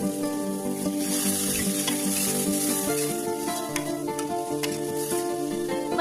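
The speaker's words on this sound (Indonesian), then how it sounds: "aduk-aduk sebentar saja" Ingredients are stirred and fried in a pan, with chopped green onion and marinade seasoning mixed in while preparing street snacks; steady close sizzling runs throughout, with scraping stirs over it and no talk.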